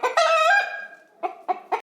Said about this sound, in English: This is a small chicken.